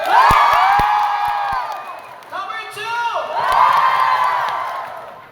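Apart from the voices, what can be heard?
audience applauding and cheering for teacher contestants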